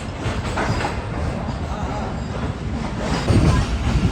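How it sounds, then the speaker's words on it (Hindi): The Awam Express passenger train rolls away from Kotri Junction, rumbling steadily with rhythmic wheel clatter and faint squeal, heard from inside a coach, with a louder burst near the end. "कोटरी जंक्शन को भी ट्रेन ने अलविदा कह दिया है और आगे बढ़ रही है कराची की तरफ।"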